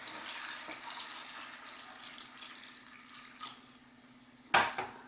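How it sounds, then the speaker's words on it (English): Water is poured into a pot of slow-cooked beef masala curry, a soft continuous splashing trickle that fades, then a short louder splash near the end, quiet and close. "I'm going to add some water."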